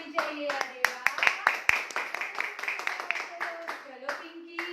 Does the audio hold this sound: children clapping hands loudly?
yes